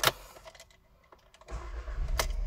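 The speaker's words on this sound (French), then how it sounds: "On va démarrer le véhicule." A Volkswagen Golf TSI 150 hp with about 80,000 km starts up: a faint interior click, a quiet pause, then the engine catches and settles into a steady low idle heard from inside the cabin.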